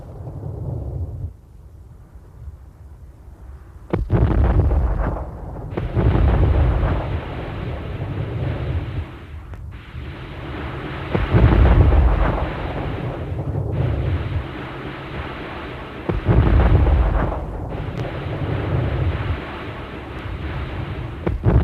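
Nebelwerfer 15 cm rockets launch in a rapid series of heavy, rumbling roaring blasts, each a deep sustained whoosh overlapping the next, loud and without talk.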